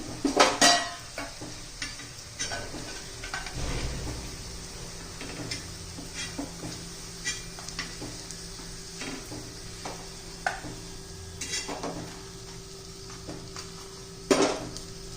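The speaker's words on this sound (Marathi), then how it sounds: "उरलेल्या आता मी तळून घेते." Leftover-chapati vadis fry in a pan of oil with a soft, steady sizzle, punctuated by sharp clinks and scrapes of a utensil against the pan and occasional stirring, with no talking.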